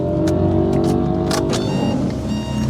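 A 1991 Plymouth Colt, a small seven-seat car-based minivan, heard with its engine running and droning steadily up close, a faint mechanical whir of the starter or a motor briefly mixed in.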